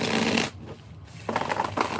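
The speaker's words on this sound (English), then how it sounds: "I'm sitting there shuffling" Tarot cards being shuffled by hand: a soft, papery riffling that runs for about half a second, pauses, then resumes in close, uneven bursts, with no talking.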